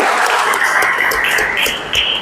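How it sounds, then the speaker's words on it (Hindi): Audience applause for an Andaman athlete who won two bronze medals at a national Muay Thai championship, a steady, loud wash of clapping that runs the whole time without letting up. "एंड उसके लिए तालियां।"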